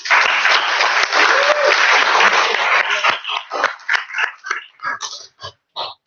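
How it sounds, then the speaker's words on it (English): A startup pitch audience bursts into loud, dense applause that holds for about three seconds, then thins into scattered individual claps and trails off. "Okay, large round of applause, please."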